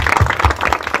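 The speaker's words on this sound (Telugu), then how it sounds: "గట్టిగా చప్పట్లు కొడుతుంది మిగతా వాళ్ళు" A church congregation claps loudly and quickly in a steady rhythmic beat, close and brisk throughout a short burst.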